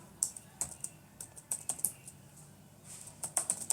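Someone typing on a computer keyboard, close up and fairly quiet, with crisp clicking keystrokes coming in irregular bursts and a short pause partway through.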